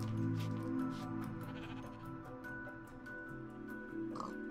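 Pig grunts and squeals from a video game, Minecraft-style, with several short oinking calls over a quiet background.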